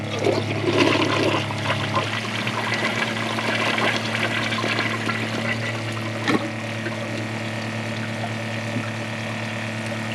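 A Kohler Ingenium elongated toilet flushes with a strong rush of water at the start, then settles into a steady trickling refill hiss that continues to the end.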